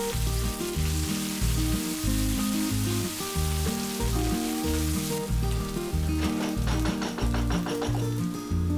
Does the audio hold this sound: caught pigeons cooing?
no